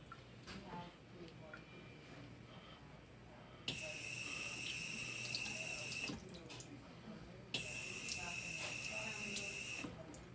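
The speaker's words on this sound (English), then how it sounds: "go wash your hands" Tap water gushes into a sink in two loud bursts while a child washes their hands, stopping in between, with faint household background and no talk over it.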